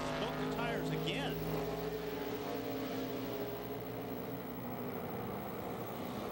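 Race cars at Watkins Glen under heavy braking with tires smoking, a steady loud engine drone filling the track, with a commentator talking over it.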